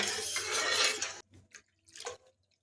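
Rice flour batter for papad pours into a pan in one steady, close rush lasting about a second, followed by a few soft trailing drips and splashes, with no voices.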